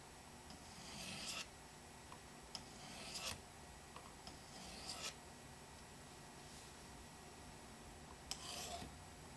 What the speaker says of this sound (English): with the work sharp, the angle is already there and you want to use the ceramic side to actually